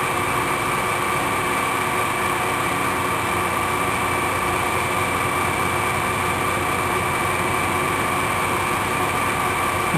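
A metal lathe cuts steadily as its tool post creeps toward the chuck, giving a loud, unbroken mechanical drone with a high whine for the whole stretch and no voices.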